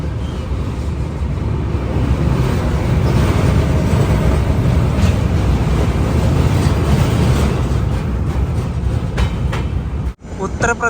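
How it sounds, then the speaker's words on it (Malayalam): A train pulls into Prayagraj Junction railway station, a loud, steady rumble of rolling wagons and wheels running close by the whole time, with a brief dip near the end. "പ്രയാഗ്രാജ് ജംഗ്ഷൻ റെയിൽവേ സ്റ്റേഷനിലേക്ക് ഇതാ ട്രെയിൻ എത്തിക്കൊണ്ടിരിക്കുകയാണ്"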